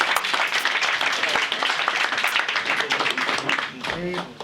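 An audience at an event bursts into dense, sustained clapping that fills the whole stretch, with a voice speaking over it and the applause thinning near the end.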